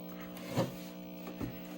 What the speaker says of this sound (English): Sorry if the hum of the TV's a little loud.